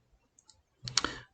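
A few faint ticks, then a sharp cluster of mouse clicks close to the microphone, heard alone.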